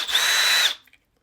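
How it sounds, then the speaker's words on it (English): A power drill fitted with a headlight-restoration sanding attachment whirs loudly at high speed for under a second, then spins down and stops, followed by a faint clatter. "the first thing you want to grab out of the box is the drill attachment. You just put that in the drill."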